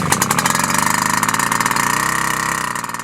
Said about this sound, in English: give several pulls on the starter rewind. This will purge any fuel. It should start after 3 or 4 pulls.